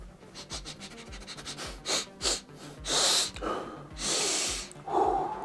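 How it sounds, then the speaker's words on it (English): A series of short nasal sniffs and breathy inhales, some quick and rhythmic, others longer and airier, close up with no talking. "Let's have a quick little sniff."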